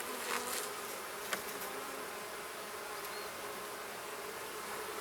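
Honeybees buzz around a spring hive in a dense, continuous drone, with a few individual bees passing nearby over the steady swarm hum.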